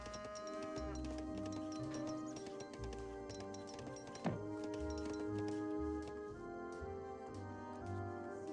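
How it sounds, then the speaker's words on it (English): Cattle lowing in a strategy video game, several drawn-out moos recurring over a busy layered game soundtrack with steady music tones and one sharp click midway. "Got a decent amount of cows here."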